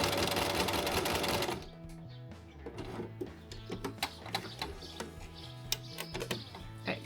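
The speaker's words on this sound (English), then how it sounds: "we're gonna do a straight stitch, just right like at the edge" A sewing machine runs a straight stitch along the edge of a beginner's apron, a steady rhythmic clatter following a brief louder rush at the start.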